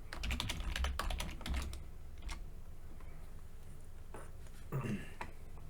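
A password is typed on a computer keyboard in a close, quick flurry of key clicks that thins into sparse taps, with a faint background hiss.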